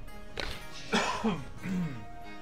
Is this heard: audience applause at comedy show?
no